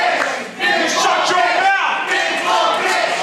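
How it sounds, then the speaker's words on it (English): Wrestling crowd at an independent pro wrestling show chanting in unison, loud and rhythmic with shouted voices rising and falling, filling the hall. "Crowd there chanting, big, bold and beautiful for Blake Curtis"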